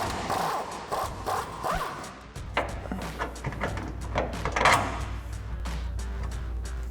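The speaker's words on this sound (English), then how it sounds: "take that same 21mm socket to remove our top bolt" A ratchet wrench with a 21mm socket working the upper rear shock bolt on a 2007-2018 Chevrolet Silverado or GMC Sierra 1500, giving repeated close clicking strokes over a low hum, with metallic clinks near the end.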